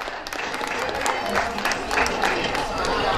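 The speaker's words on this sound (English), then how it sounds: "big round of applause for Mr." An audience at a festival pageant applauds with steady, dense clapping from a nearby crowd, and a voice is heard through it.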